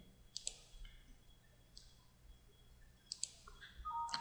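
Sharp, isolated computer mouse clicks while pressing an OK button during Windows Active Directory domain setup, a few soft close clicks spaced irregularly over quiet room hum, with a faint system tone near the end.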